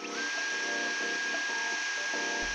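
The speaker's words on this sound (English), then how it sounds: "the high-pitched frequency of the Dyson makes it sound more like a dental drill than a quiet vacuum" A Dyson V11 cordless vacuum runs on eco mode with a loud, steady, high-pitched motor whine much like a dental drill, heard alone and close up.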